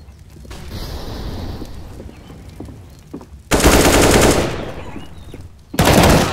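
Bursts of gunfire and loud, sharp combat noise from a Counter-Strike match as a flashbang grenade is thrown; dense mechanical rattling gives way to two broad, loud blasts.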